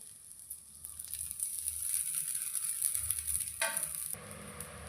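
Dosa batter and oil sizzle steadily on an iron pan, a close, constant hiss with a brief louder crackle near the end.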